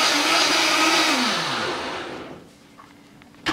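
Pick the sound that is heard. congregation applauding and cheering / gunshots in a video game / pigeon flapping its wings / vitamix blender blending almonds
vitamix blender blending almonds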